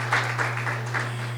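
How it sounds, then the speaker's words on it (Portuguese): Audience applause at a Brazilian forensic nursing congress, a short, fairly soft burst of clapping heard through a hall sound system with a constant low electrical hum underneath. "Salva de palmas, pessoal."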